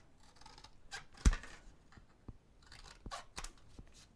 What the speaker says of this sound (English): This is chipboard and it's thinner than the foam tape. So I would just cut this.